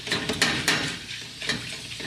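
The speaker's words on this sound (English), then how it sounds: "The mushrooms I've been sauteing about 4 minutes or so, and they are really ready" Oyster mushrooms sauté in a pan of butter with garlic and onion, giving a soft, steady sizzle broken by a few light scraping and stirring knocks from a utensil against the pan.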